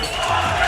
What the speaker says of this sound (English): you can see the crowd is just lit up now.